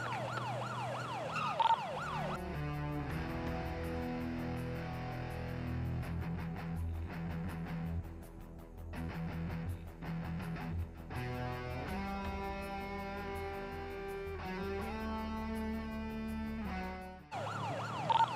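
A police vehicle siren wails in the video game GTA roleplay, a steady rising and falling electronic tone that runs almost the whole time and cuts out near the end.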